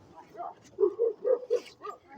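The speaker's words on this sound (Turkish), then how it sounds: "Evet, köpek Ahmet'e saldırıyor." A dog attacking a person outdoors during an apple-gathering job, giving a run of four or five close, rhythmic barks and yelps with a whine at the end, with voices nearby.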